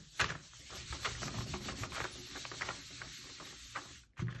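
A hand rubbing paper onto an inked printing plate while printing on a cradled panel: close, soft irregular rubbing and brushing strokes in quick succession, ending with a brief scrape of paper lifting.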